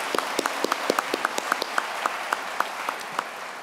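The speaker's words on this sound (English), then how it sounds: "Give yourself another round of applause." Applause from a graduation audience at a Penn Foster ceremony, a sparse, steady run of individual claps at moderate distance, fairly even in rhythm and loudness, heard alone without talk.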